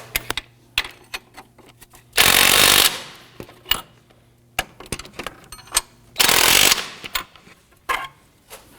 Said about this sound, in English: let's go ahead and snug down our strut bolts.